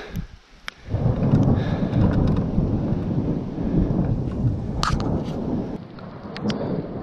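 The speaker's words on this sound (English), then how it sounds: "Well, the rain finally caught us." Steady rain falls on a craggy ridge near a stone dolmen during a thunderstorm, a dense hiss that stays loud throughout, with a few sharp cracks and rumbles cutting in.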